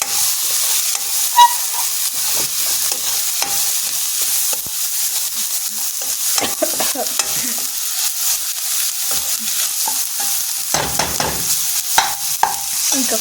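Masala, apparently chat masala, is stirred and scraped around a hot pan for Maggi noodles, giving steady scraping strokes over a continuous sizzle, with no talking.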